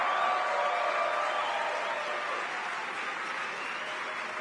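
A crowd at a Ron Paul political rally in Minneapolis claps in a steady, dense wash of applause that holds for the whole clip and fades slightly toward the end.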